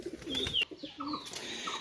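A Pakistani pigeon coos close by in low rolling calls, with brief higher chirps and some shuffling noise mixed in; no voices.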